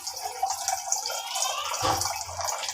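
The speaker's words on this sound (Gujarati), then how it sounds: "હજી થોડું પાણી લઈ લેવું." Water poured into a pan with sugar for a sugar syrup for boondi laddu, a close trickling and splashing stream that swells into a fuller gush midway.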